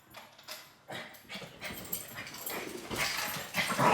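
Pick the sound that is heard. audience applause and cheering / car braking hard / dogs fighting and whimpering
dogs fighting and whimpering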